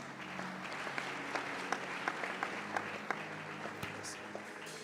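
Church audience applauding during a sermon, a steady dense clapping from many people that holds throughout at moderate volume, with no speech over it.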